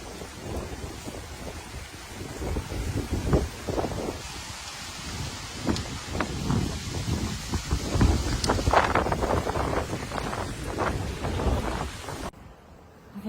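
Gusty wind sweeps through a freak desert thunderstorm with rain, a steady rushing roar and buffeting thumps on the microphone throughout, swelling and fading before cutting off near the end.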